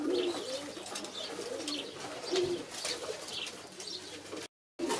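Zamość pigeons in a loft cooing repeatedly, soft throaty coos overlapping close by amid rustling and light chirps, continuing steadily before a brief cut to silence near the end.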